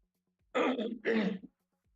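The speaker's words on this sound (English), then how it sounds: "Sorry for that cough." Two harsh coughs in quick succession, close and loud, with near silence before and after.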